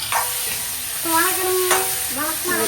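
Mutton head curry sautés in a pan with chili powder, giving a steady close-up sizzle and stirring scrapes, with brief tonal voice-like sounds rising over it.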